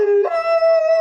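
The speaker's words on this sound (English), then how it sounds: "there seems to be a howl-off war between" Dogs howling near a car repair workshop, a single loud, close, sustained tonal howl that rises in pitch partway through and holds steady for about a second.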